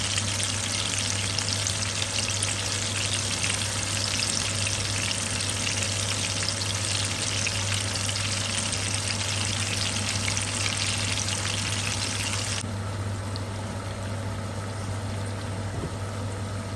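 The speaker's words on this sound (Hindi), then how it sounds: "और इसे हम फ्राई करेंगे मीडियम फ्लेम के ऊपर।" Chicken malai tikka frying over a medium flame, giving a loud, dense and continuous sizzle and crackle that holds steady throughout, then softens slightly near the end.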